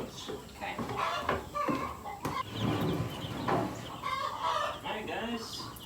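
Young chickens in a brooder clucking and peeping in a busy, overlapping chorus close to the microphone, with a person speaking at moments among them.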